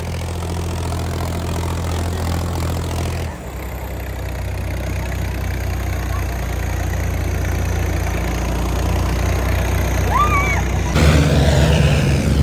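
Tractors on a trip to haul sand from the Yamuna river idle and run with a loud, steady low engine drone, the pitch shifting slightly as revs change partway through.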